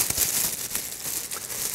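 A thin plastic bag crinkles and rustles in close, irregular bursts as it is pulled over a patient's leg during cast preparation.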